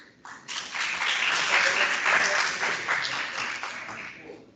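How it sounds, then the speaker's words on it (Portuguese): Audience applause at a law lecture event, starting abruptly and holding as a dense, even clapping for about four seconds before cutting off. "Com aplausos, convidamos para compor a mesa a palestrante e professora do curso de Direito, doutora Isabela Pisse,"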